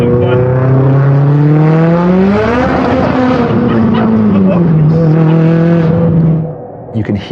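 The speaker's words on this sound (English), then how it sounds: "You can hear the car brake traction as all 4 wheels spin up." A powerful car spinning all four wheels on a rain-soaked surface, its engine wailing as it rises and falls in pitch, loud and close, then cutting off abruptly near the end.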